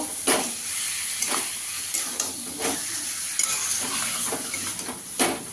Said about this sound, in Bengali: এবার আমি ম্যারিনেট করা চিকেনটা দিয়ে দেবো। দিয়ে ভালো করে মিশিয়ে নেব।